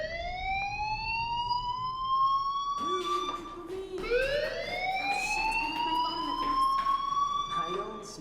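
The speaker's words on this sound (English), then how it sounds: "Hey, do you hear that fire alarm?" A school fire alarm in the video game Life is Strange wails with a rising, sweeping electronic siren tone that repeats, moderately loud, while voices talk over it.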